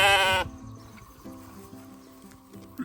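A sheep on a farm lets out one loud, close bleat at the start, then quieter farmyard ambience with low tonal background sounds follows.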